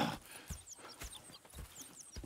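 Horse hooves clip-clop in a steady walking rhythm in Red Dead Redemption 2, with faint snorts, moderately close and alone with no talk.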